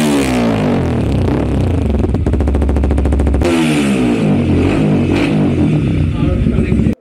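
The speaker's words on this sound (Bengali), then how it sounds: "আমি আপনাদেরকে বাইকটার এক্সজস্টের সাউন্ড একটু শোনাচ্ছি" Modified Yamaha R15 V3 motorcycle exhaust revving close up, loud harmonic engine tone climbing and falling through several throttle blips with a sharp crackling burst in the middle, then cutting off abruptly.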